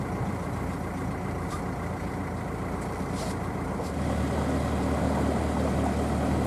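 A motorboat engine drones steadily while cruising out of a marina, a low continuous rumble that grows slightly louder and deeper partway through, with no voices.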